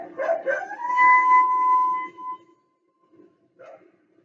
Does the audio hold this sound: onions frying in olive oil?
no